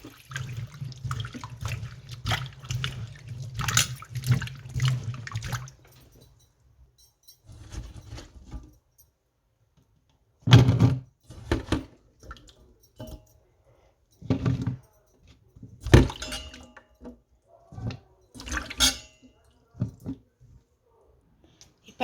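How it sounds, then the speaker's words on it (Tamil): Cut sweet potatoes being washed in cold water in a sink: a running-tap stream at first, then intermittent splashes, swishing and clinks of handling between quiet gaps. "குளிர்ந்த தண்ணியில் இதை நாங்கள் வடிவாக கழுவுவோம்."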